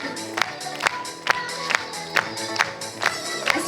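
An audience at a children's theatre competition claps in a steady, even rhythm, roughly two claps per second, over music playing in the background.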